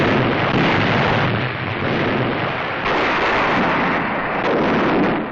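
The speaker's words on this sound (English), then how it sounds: "the Iowa's commander, Captain McCrae, orders her 9 16-inch guns to fire a mighty salvo" Nine 16-inch guns of the battleship Iowa fire a salvo during a testing cruise at sea, a loud, sustained rumbling roar of heavy gunfire and blast noise with constant wind-like turbulence throughout, no voices.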